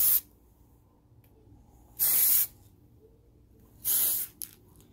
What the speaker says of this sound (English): And so I kind of spray it up so that it kind of falls and settles down on the countertops.